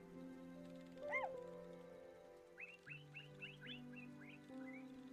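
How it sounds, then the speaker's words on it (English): Birds call in a calm outdoor scene in the video game Heartopia: a single bright chirp, then a quick run of short descending whistled notes, faint over soft sustained background music. "I can hear plenty of birds, so it shouldn't be too hard."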